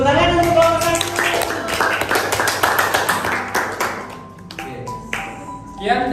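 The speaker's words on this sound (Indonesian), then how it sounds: "tepuk tangan untuk kelompok 1" Students applaud a presenting group in a classroom religious lesson, with scattered, uneven claps and taps mixed with voices talking over them.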